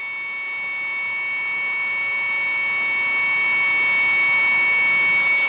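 An electric motor driven by a variable frequency drive spins at high speed, around 200 hertz, giving a steady whine with several sustained pure tones over a soft broadband hiss that rises slowly in level throughout.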